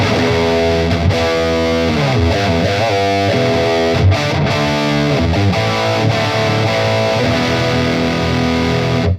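Heavily saturated electric guitar riffing through a Soldano SLO Mini head with the gain maxed, loud and fuzzy with thick distortion, chords and notes played in a steady rhythm with no voices.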